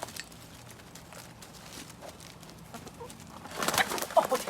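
Backyard chickens cluck softly while being caught, with a louder burst of agitated clucking and flapping near the end.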